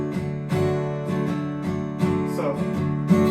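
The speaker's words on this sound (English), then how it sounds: "And the strumming pattern sounds like this." Acoustic guitar strummed in a steady pattern, about six to seven distinct strokes with bright chord attacks, close and clear with no talking.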